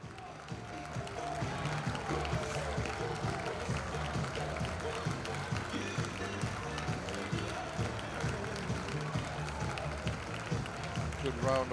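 A crowd at a high school baseball championship game applauds a departing player, a steady spread-out clapping that continues throughout, mixed with distant crowd murmur and a voice talking over it.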